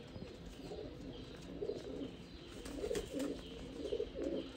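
Pigeons struggling in the heat make soft, throaty, repeated pulsing sounds in short bursts, fairly close and quiet against a low background.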